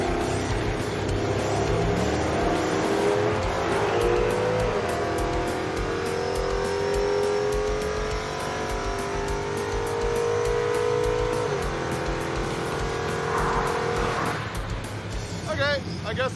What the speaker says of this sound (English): On the 1-2 shift, the truck went sideways.